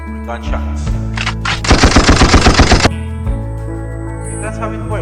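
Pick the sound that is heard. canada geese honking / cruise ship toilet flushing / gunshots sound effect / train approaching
gunshots sound effect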